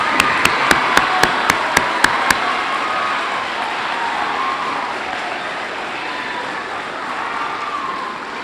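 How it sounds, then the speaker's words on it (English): Audience at a Roosevelt Middle School veterans tribute breaks into steady applause that fills the hall and holds at an even level, with a run of sharp, evenly spaced claps standing out at the start. "So if we could please give a huge round of applause to all of our veterans here"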